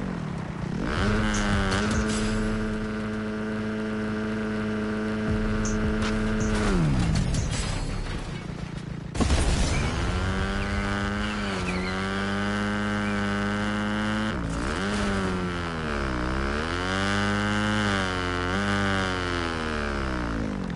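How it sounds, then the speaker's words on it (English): A motorbike engine in the Fortnite video game drones and revs loudly and steadily for about twenty seconds, the pitch holding, then dropping and rising again in waves, with no talk over it. "Motorbike is so fucking loud."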